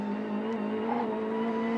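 Ford Sierra touring race car driven hard during the 1992 Tooheys 1000 top-ten shootout at Bathurst, a steady high engine drone held at high revs throughout, moderately loud with no talk.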